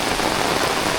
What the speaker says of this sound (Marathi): हा कसला जोरदार पाऊस आलाय